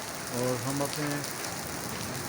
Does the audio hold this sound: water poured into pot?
no